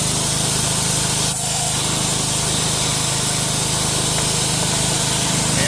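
Continuous loud hiss of water spraying forcefully against metal in a 2026 RAM 2500 truck wheel well, close by, with a brief dip partway through before the rushing resumes.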